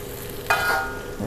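Seasoned food, spiced with coriander and Royco, is dropped into hot oil in a pan and starts frying with a sudden sizzling hiss that slowly fades, and a second splash comes near the end.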